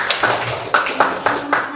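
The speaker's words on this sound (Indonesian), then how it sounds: "tepuk tangan untuk Nenda" A classroom of students claps briefly for a classmate, a short burst of several uneven hand claps close by.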